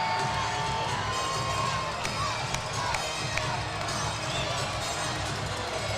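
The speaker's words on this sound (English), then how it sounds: "this crowd is starting to get rowdier and rowdier" Crowd cheering in a hockey arena during a league finals game, a steady roaring mass of voices with whoops and scattered shouts, loud throughout.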